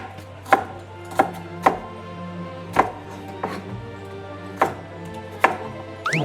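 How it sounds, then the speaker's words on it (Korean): A knife chopping lettuce on a cutting board, about eight sharp separate strikes at an uneven pace, close by, over a low steady hum. "상추도 같이 썰어서 넣어주면 맛있거든요"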